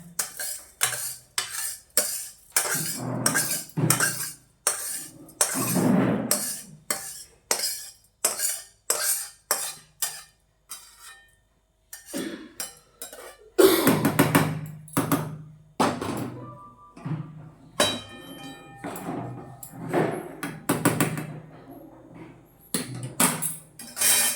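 A spoon stirs vermicelli in milk in a pot over low gas flame, scraping and clinking steadily in rapid repeated strokes, close and fairly loud, with short pauses between bursts.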